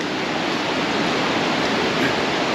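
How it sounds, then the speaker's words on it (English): Rapids of a river rush past close by near the ruins of a Civil War-era mill, a loud, steady broadband roar of churning water with no break and no voices. "I don't know how well you can hear me because of the rapids going by"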